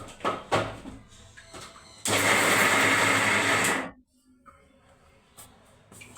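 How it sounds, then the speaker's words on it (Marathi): A mixer grinder whirs loudly for about two seconds, coarsely grinding green chilies, garlic, cumin and ajwain without water, preceded and followed by quieter kitchen clatter and knocks. "हे मिक्सरमधून बारीक करूया"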